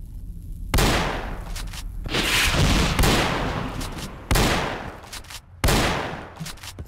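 Gunfire in STALKER: Call of Pripyat, with four sharp, loud shots spaced a second or more apart, each trailing off in a long echoing decay. No one speaks.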